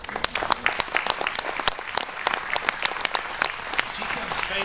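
A church congregation claps steadily, a moderately close patter of many hands with sharp individual claps standing out, continuing evenly throughout.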